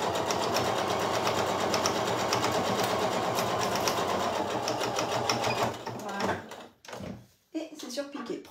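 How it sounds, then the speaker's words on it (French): Sewing machine running a straight topstitch, a steady fast mechanical stitching whir for about six seconds that stops abruptly, followed by faint handling clicks and rustles. "je viens faire ma petite surpiqûre au point droit"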